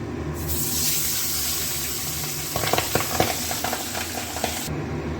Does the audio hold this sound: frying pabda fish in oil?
yes